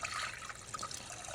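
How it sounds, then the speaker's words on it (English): Water is poured into a pot of rice, giving a short, faint, bubbly trickling splash with no speech over it. "This time when I cook the rice, pour it in, all in."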